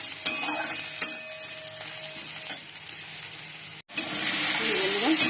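Spices fry in a pan with eggs and potatoes, a continuous close sizzle broken by scraping stirs, then a brief drop to near silence before a louder, denser hiss takes over.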